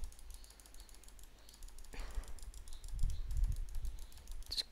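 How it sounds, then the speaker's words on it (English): Rapid clicking while playing the Cookie Clicker game, a fast, quiet patter of clicks over a low background hum, steady and close throughout. "So we're just gonna click a bit more here to get some more cookies up."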